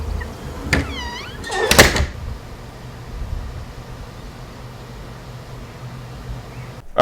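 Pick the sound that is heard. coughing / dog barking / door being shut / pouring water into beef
door being shut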